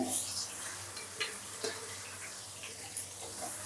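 Chopped onions and chillies fry in hot oil, giving a moderate crackling sizzle with a few soft stirring knocks and scrapes of the pan, close by with no talk.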